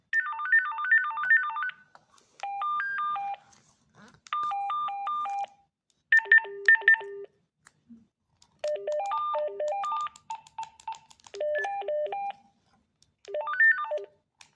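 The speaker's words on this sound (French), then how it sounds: "là, on peut régler les différentes sonneries" A series of short electronic ringtone melodies from a children's walkie-talkie plays one after another, beeping tunes of varying pitch patterns separated by brief pauses, clear and close.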